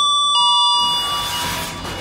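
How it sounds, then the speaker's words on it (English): An Excelsior passenger lift chimes on arrival at a TK Maxx in Kidderminster, a loud two-tone bell whose clear ringing tones hang and fade over the next couple of seconds, with no talking. "let's listen to the bell"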